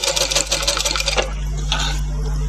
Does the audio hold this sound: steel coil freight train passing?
no